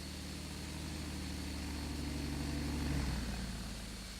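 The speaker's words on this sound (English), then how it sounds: "Someone's in the light aeroplane, taxiing up past." Light aeroplane in a flight simulator taxies past, a steady droning engine hum that rises gently to a peak and eases away, heard alone without talk.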